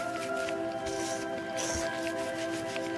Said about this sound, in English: I would continue to mix, making sure that everything is well blended